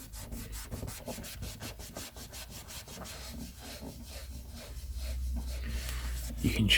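Collectible items being wiped clean of dust and dirt, giving close rhythmic rubbing strokes, quick at first and then smoother, with faint low background rumble.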